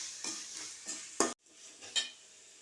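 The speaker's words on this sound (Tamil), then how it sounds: "இப்போ காடையை சேர்த்துக்கலாம் ஃப்ரெண்ட்ஸ். நல்லா வதக்கி விட்டுக்கலாம்" Quail meat is sautéed in a pan, with a few scraping stirs and a sharp clatter of the spatula against the pan over a soft sizzle, close and without speech.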